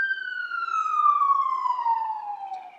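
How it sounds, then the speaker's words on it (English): An ambulance siren drives by outside, a clear single tone that slowly falls in pitch as it passes, moderately loud and heard alone without speech. "Sorry, there's an ambulance driving by."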